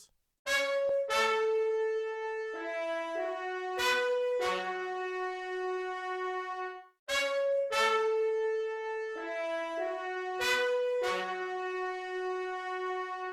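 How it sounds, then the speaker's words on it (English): Vintage-style orchestral sample built from trumpet and horn plugins, bright brass stabs and short melodic phrases repeating in a two-part pattern, clear and upfront with no talking. "I then added trumpets from X-Band, as well as horns from Sonatino Orchestra"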